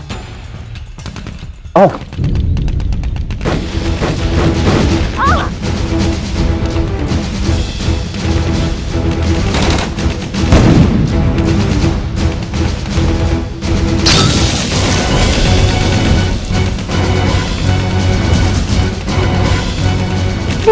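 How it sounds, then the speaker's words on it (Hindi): Sustained gunfire lays down cover in a tense drama scene, a loud, continuous barrage of shots and booms with a dense crashing rumble over most of the stretch, broken by a brief spoken line near the start. "मैं कवर फायर करता हूँ, तुम लोग बंकर नंबर 2 तक पहुंचो।"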